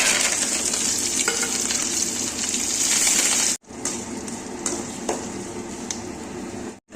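Green chillies and curry leaves sizzle hard in hot oil for an onion-potato tempering, a dense crackling hiss with stirring scrapes, briefly cut off midway and then resuming.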